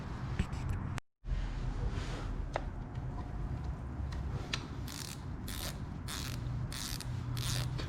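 Ratchet wrench loosening the cover bolts on a Honda CRF450L during an oil change, giving close, repeated mechanical clicking bursts over steady background noise, with a brief dropout near the start.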